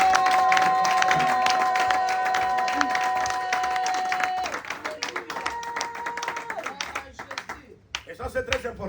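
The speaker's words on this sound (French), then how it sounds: "Est-ce que nous pouvons acclamer pour Jésus-Christ?" A church congregation claps and cheers for Jesus Christ during a sermon, steady rhythmic applause with sustained sung or shouted voices, then the applause thins into scattered claps near the end.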